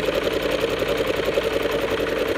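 Sewing machine stitching a seam in fabric bag material: a rapid, even mechanical chatter that runs continuously and close by, with no pauses.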